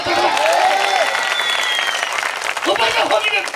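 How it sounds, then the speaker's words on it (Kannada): A church congregation at a Calvary Preeti Ministries service in Bidar bursts into sustained clapping, loud and dense, with raised voices mixed into the applause throughout. "ಚಪ್ಪಾಳೆ ತಗೋ."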